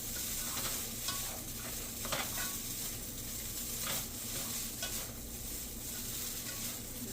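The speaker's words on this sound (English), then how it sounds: "Pretty much we're just warming up the tofu" Shredded tofu warming in a hot pan, a steady soft sizzle with occasional scrapes and stirring clatter from a utensil, continuous and fairly close, with no talking.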